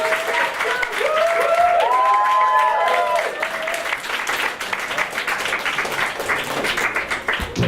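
Steady audience applause at a student comedy society sketch show, with a voice singing briefly over it early on before the clapping continues alone.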